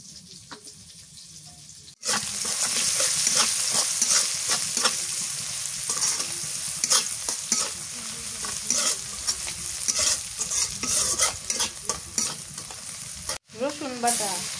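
Chopped onion sizzles in hot oil in a pan while a spoon stirs and scrapes it, steady close frying with rhythmic clinks, no talk.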